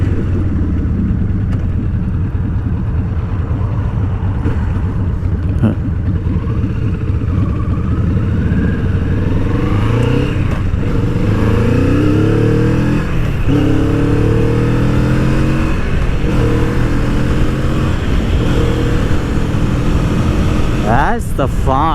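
A Kawasaki Vulcan S motorcycle fitted with a cafe racer style windscreen rides along a quiet road, its engine droning loudly and shifting pitch as it accelerates, heavy wind rush throughout.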